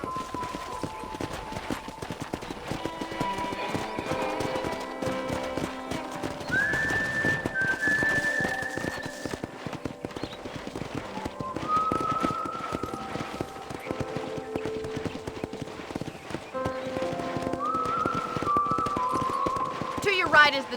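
Horse hooves clip-clop at a steady walking pace in Red Dead Redemption, continuous under a background of sustained musical tones and whistle-like notes throughout.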